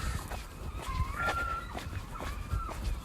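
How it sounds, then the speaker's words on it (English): Seagulls call over a coastal town near steel stairs. Several drawn-out, wavering cries sound at moderate distance over steady outdoor background noise, with no talking. "I haven't ever heard these seagulls quite so loud, quite so noisy as they are today."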